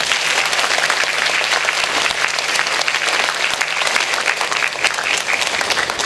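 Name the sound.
applause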